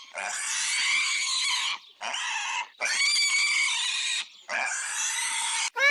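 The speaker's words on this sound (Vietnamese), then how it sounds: "Pig." A pig squeals in four long, loud, strained bursts separated by short silences, close by, with a fifth cry starting at the very end and no talking.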